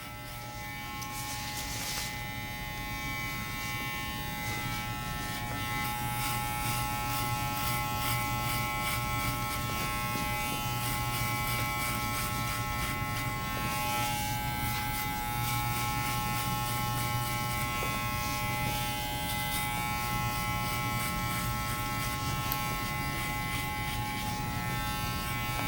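An electric hair clipper set to a number 1 guard cuts hair in an Afro-centric fade, giving a steady close buzz with a bright tonal drone that continues without pause.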